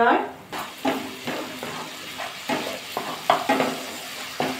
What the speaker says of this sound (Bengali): অল্প করে জল দিয়ে দেবো, দিয়ে ভালো করে কষিয়ে নেব মশলাটা